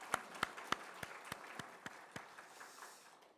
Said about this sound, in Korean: 함께 우리 감사와 격려 박수하겠습니다